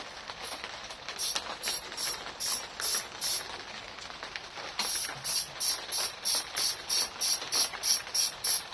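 A ratchet wrench loosening the fuel tank bolts on a high-mileage Honda VFR 800 motorcycle, with bursts of rapid clicking that grow into a steady, evenly spaced run of close, crisp ratchet strokes near the end.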